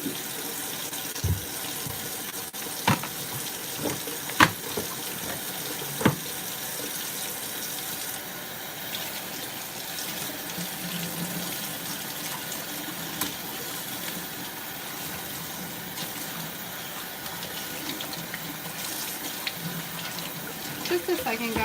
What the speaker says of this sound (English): Sorry, I'm just rinsing out my juicer.